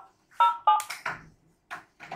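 A Grandstream GRP260X desk phone places a call, giving a short series of crisp keypad beeps and tones with brief pauses between them.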